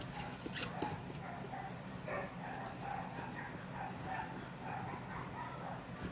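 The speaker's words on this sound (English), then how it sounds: "those dogs are cray-cray outside right now. They're having fun." Several dogs play outdoors, letting out intermittent barks, yips and whimpers that sound fairly distant and quiet over a steady background hum.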